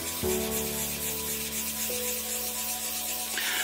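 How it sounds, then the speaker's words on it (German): Steady rubbing and rasping of sandpaper floating on a film of water, wet sanding scratches out of a plastic dome, close and fairly quiet, with a faint hum underneath. "damit das Schleifpapier auf dem Wasserbett schwimmt"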